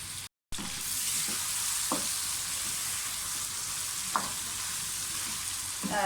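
Chicken sizzles and fries steadily in a pan while being roasted for a badami korma, a constant close crackle broken by a few soft scrapes from stirring, with no talking.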